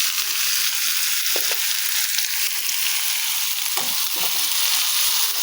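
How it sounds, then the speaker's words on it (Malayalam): Finely chopped onion fries and is stirred in a pan, a loud continuous sizzle close by with occasional soft scraping strokes, no talk. "നമുക്കിതിലേക്ക് ചെറുതാക്കി അരിഞ്ഞ സബോള ഇട്ട് കൊടുക്കാം. എന്നിട്ട് നമുക്ക് നന്നായിട്ടൊന്ന് ഇളക്കി കൊടുക്കാം."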